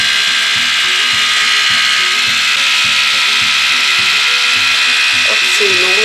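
An AliExpress split-end hair trimmer buzzes steadily as it runs through hair, a constant close motor whine over a pulsing background beat.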